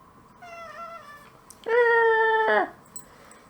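A domestic cat meows twice nearby: a softer first call, then a longer, louder and strained meow, with quiet room background between the calls.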